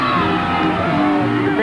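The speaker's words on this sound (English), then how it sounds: "You can barely hear their music over the crowd." A dense crowd cheers and shouts along the route of the 1989 New Orleans Mardi Gras parade with the Rex floats, a loud, continuous roar of whoops and voices with tonal calls rising through it.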